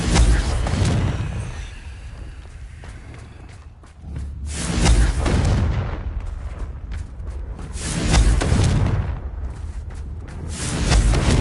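A Confringo blast spell cast in a PS5 magic-school game, heard as loud, broad whooshing booms that swell and fade several times in succession.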